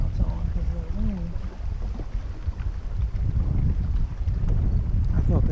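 Wind gusting across Lake of the Ozarks around a fishing boat during crappie fishing, a steady low rumble of buffeting on the microphone, with people talking close by.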